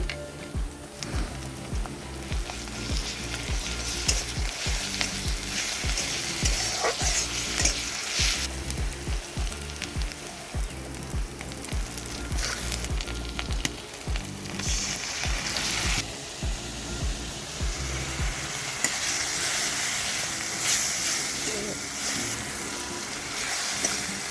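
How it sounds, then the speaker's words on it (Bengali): Ghugni with paneer cooking in a pan, a long, steady frying sizzle close by, with repeated stirring scrapes and soft knocks in an uneven rhythm and no talking. "আমি দেখো এখন ঘুগনিটা রান্না করে নিচ্ছি"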